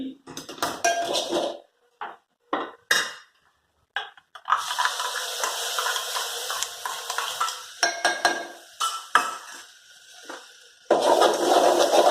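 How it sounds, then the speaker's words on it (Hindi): Yogurt being stirred into fried spice masala in a pan for soyabean pulao makes scraping and clattering with a spoon against metal, interrupted by gaps, with a soft sizzle underneath and brief nearby talk. "मसाला भुनने के बाद अब इसके अंदर हम मिलाएंगे दही।"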